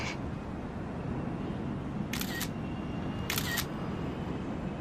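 An SLR camera shutter clicks twice on a rooftop at night, two short, crisp snaps about a second apart against a quiet, low background hum.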